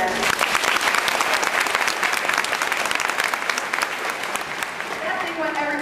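A large audience applauds loudly and steadily at a horse clinic at Equine Affaire, the clapping dense and sustained before easing slightly toward the end.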